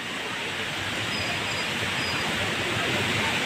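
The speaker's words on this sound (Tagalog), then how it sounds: "Ayan o, pagkalakas ng hangin o." Strong wind from Typhoon Odette (Rai) roars in a loud, continuous rushing noise, a broad steady howl with no distinct breaks and no clear speech.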